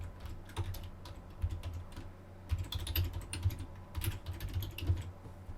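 Login credentials typed on a computer keyboard, a steady run of close, light key clicks in uneven bursts with brief pauses, no voices.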